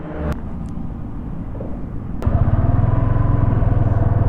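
A Suzuki V-Strom SX 250 motorcycle engine comes to life, a low idle rumble swelling into a louder, steady pulsing drone as the bike sets off, with a couple of sharp clicks along the way.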